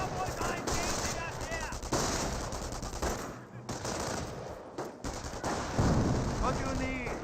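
Rapid machine-gun bursts and rifle fire rattle through a Company of Heroes battle in dense, repeated volleys with brief lulls, and an announcer's voice comes in over the shooting.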